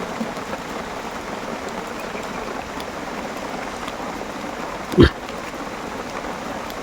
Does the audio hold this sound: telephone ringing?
no